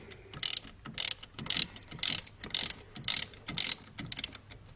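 A hand ratchet loosens a bolt on a 2013 Ford Focus axle, giving about eight sharp clicking bursts in an even back-and-forth rhythm. Each burst is close and crisp, and no speech is heard.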